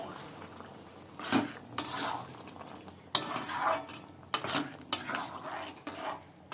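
Green peas are stirred in a cooking pan over a soft sizzle. A spoon scrapes and clinks against the metal in uneven strokes, close but fairly quiet.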